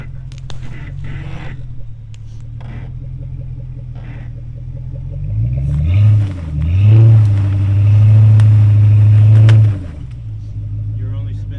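A Jeep WJ off-road idles and rumbles, then its engine revs hard twice as a wheel spins, the roar swelling for several seconds before dropping back, with people talking nearby throughout.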